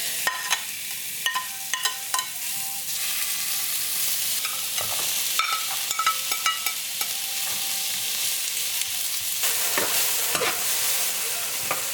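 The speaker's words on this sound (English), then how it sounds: "that's my famous ginger beef stir fry I was just cooking up" Ginger beef stir fry cooks in a pan, giving a continuous sizzle under frequent clatter and scraping of a spatula against the metal, close and steady for the whole stretch.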